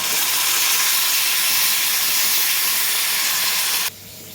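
Cooked karonda dal poured into a hot turmeric and curry-leaf tempering sends up a loud, steady sizzling hiss, close and continuous, that cuts off abruptly near the end.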